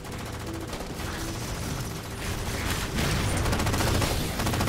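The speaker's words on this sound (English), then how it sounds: "This machine gun's working wonders, man." Machine gun fire in the Halo 4 video game, a dense continuous fusillade of rapid shots that grows louder toward the end, with explosions mixed in.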